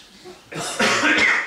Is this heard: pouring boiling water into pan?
no